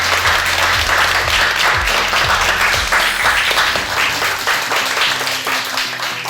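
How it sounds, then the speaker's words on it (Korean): Loud, full applause from an audience at a youth career event honoring a broadcaster, dense close clapping that carries for several seconds before thinning slightly at the end, with faint voices beneath. "박수 한번 부탁드리겠습니다"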